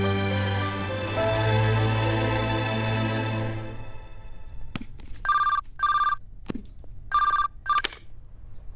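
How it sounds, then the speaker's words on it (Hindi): A telephone rings in an office during a Hindi film scene, its electronic bell sounding in two clear bursts with short gaps, loud and alone after background music fades out. "सर, मिस्टर राज मल्होत्रा का फोन है।"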